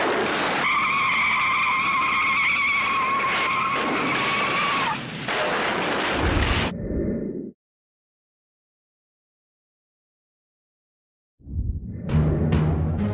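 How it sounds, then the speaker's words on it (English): Several NASCAR race cars skid and crash in a multi-car pileup at Daytona, with loud sustained tire squeal and roaring engines that end in abrupt crashes. A silent gap follows, then a burst of engine noise. "The most fantastic pileup in auto racing history takes 37 cars out of the race."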